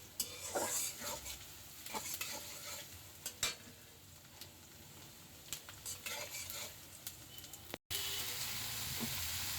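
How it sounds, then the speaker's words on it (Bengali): Onion and garlic fry in a pan for a duck meat curry, giving a steady close sizzle broken by repeated scraping and stirring strokes and a brief dropout near the end. "এখানে আমি পেঁয়াজ আর রসুন দিয়েছি, এটা একটু বাদামি করে ভেজে নিব।"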